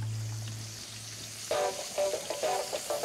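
Garlic, smoked paprika, caster sugar and red wine vinegar hit a hot pan, first a soft steady sizzle, then a brighter crackling fry as the liquid goes in, close and moderately loud.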